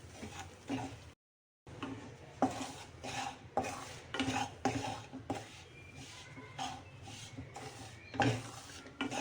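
Dry bajra (pearl millet) flour roasting over low heat in a pan, stirred continuously with a metal spatula: repeated scraping strokes and light clinks against the pan, steady and close, with one brief pause near the start and no talk.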